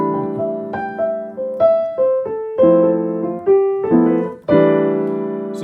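Piano plays a swung hemiola figure that mixes single melody notes with triad chords in an uneven, lilting rhythm; each struck chord rings and decays, closely recorded with no talking.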